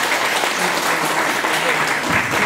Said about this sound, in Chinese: 我们掌声来感谢蔡市长